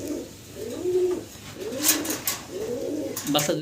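Baby fancy pigeons, chicks of the Dragon homer type, coo softly in a series of four rounded, rolling phrases with brief gaps, close by, with faint rustling clicks near the end.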